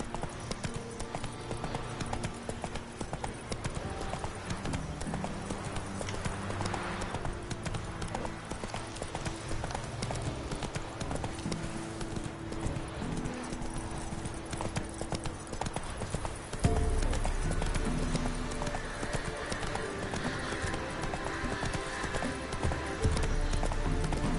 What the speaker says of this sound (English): Whoa there, Roach. Come on, Roach.